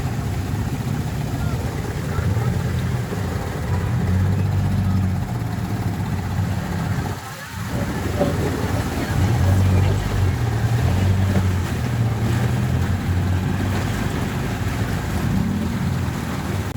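Steady rushing water and a motorcycle engine drone run throughout as the motorcycle pushes through deep floodwater, with a brief dip midway; voices murmur underneath.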